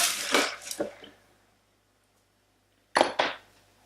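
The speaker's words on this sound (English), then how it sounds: "Might just give that a quick little stir." Macaroni with lemon juice is stirred quickly in a cooking pot, making two short bursts of close clinking and scraping separated by a silent gap, with no voices.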